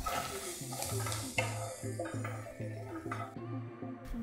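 A spoon stirs atukula upma with fried potatoes in a pan, scraping and clinking steadily while the mixture sizzles faintly.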